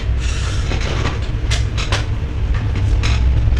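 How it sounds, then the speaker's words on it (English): Trains passing outside a window make a steady, broad rumble with low roar and occasional bursts of clatter, fairly loud throughout with no voices. "trains are going insane today"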